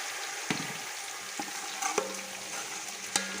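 Tomato puree and paste frying in a pan of fish green masala biryani, a steady close sizzle with a few sharp clinks and scrapes of stirring scattered through.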